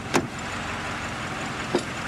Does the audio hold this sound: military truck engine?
yes